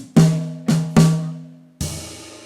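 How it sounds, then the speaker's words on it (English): Jazz swing drum fill struck as double stops on snare and rack tom together: four loud, resonant hits in an uneven rhythm, each ringing with a pitched tom tone and decaying before the next, with no talking. "Let's play this fill now as double stops on the snare and rack tom"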